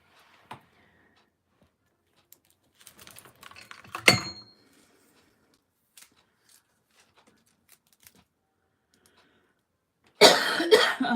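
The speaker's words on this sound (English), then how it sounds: "Do not want to cough." A few scattered coughs break a mostly quiet room, the last burst loud and rough, with faint clinks of small objects between them.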